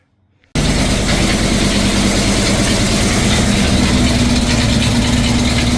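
A 1970s Ford Falcon XB GS Hardtop engine, which has bad exhaust leaks, starts after a half-second of silence and runs at a steady, loud, rough idle close by.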